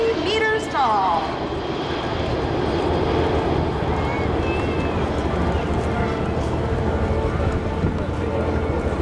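A USAF C-17 jet transport flies at an air show, its engine roar a loud, continuous wash that holds steady throughout, with faint whistling tones drifting over it.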